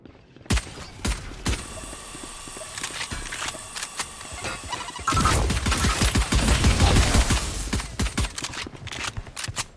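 Rapid gunfire from Valorant, with sharp shots and bursts at first, then a dense, loud stretch of overlapping automatic fire in the second half, ending in scattered single shots.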